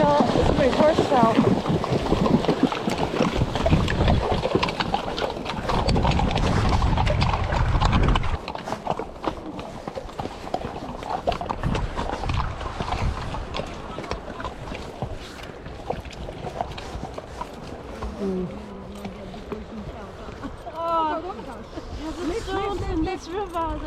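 Horses splash and clatter across a rocky river with hooves striking stones, wind buffeting the microphone, and people calling out to each other.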